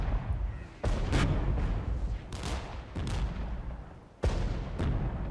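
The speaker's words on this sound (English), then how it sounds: "Oh, the artillery strike doing just enough damage." Artillery strike in the war game Regiments, several sharp booming blasts at irregular intervals, loud and close, each followed by a rumbling tail over continuous low battlefield noise.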